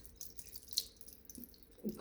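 Water drips and drains quietly off soaked odiyal flour, a few light close drips and a soft trickle in a quiet setting, with no talking.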